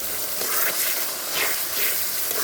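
Ginger-garlic paste sizzles in hot oil with whole spices such as cloves for a chicken and lentil curry, a dense, steady frying hiss with brief swells as it is stirred, close and continuous with no voices.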